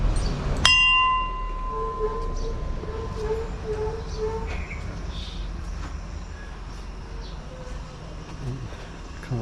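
A small metal bell at a little Hindu temple in Nepal, struck once with a sharp, ringing clang that hums and slowly decays over faint outdoor background noise.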